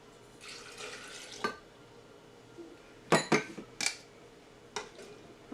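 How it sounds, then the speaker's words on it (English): Milk and heavy whipping cream pour into a Ninja Foodi blender jar in the kitchen, a faint liquid rush followed by several sharp clinks and knocks of containers against the jar, close and quiet. "we'll put in our milk and our heavy whipping cream."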